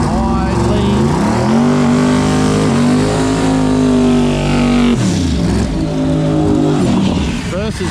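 Drag race cars on 275 tires launching at a street racing event, their loud engines revving up and roaring hard as they accelerate away, close and dominating the sound.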